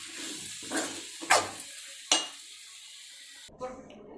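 Mushrooms sizzle softly in a pan while a utensil stirs, with a few scraping clatters against the metal.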